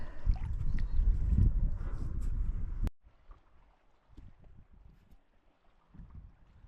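A kayak paddled along the sea coast near a boat ramp, with a loud rush of wind and water for the first three seconds, then quieter intermittent splashes and paddle strokes.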